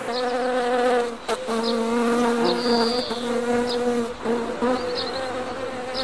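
Honey bees swarm around hives in the mountains of Penjwen, a dense, continuous loud buzzing close by with individual bees droning past and a few brief dips in the steady hum.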